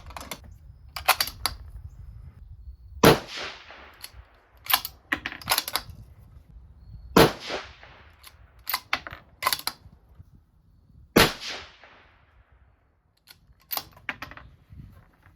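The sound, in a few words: rifle shots fired while zeroing a Discoveryopt scope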